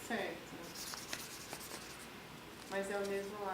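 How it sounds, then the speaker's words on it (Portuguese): A pen scratches and rubs across paper in short coloring strokes, a soft, dry, steady scraping, before a voice briefly begins speaking near the end. "eu vou colorir o lado que eu entrei com a caneta"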